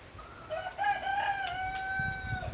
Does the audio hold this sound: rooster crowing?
yes